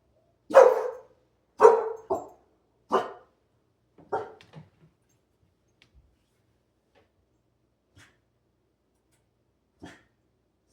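A dog in training gives four or five sharp barks in quick succession, loud and close. The barks then stop, leaving near silence broken only by a few faint ticks.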